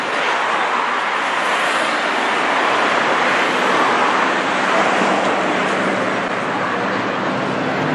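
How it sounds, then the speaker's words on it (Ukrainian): Water rushes steadily outdoors along a street where trees are being cut down, a constant broadband wash that is loud and close with no talk. "Тут і вода тече."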